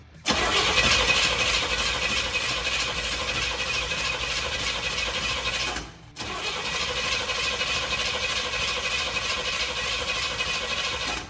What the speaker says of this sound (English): I'm gonna go crank it and see if we get fuel.